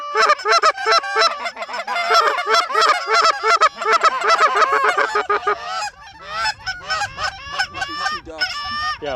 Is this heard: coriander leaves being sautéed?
no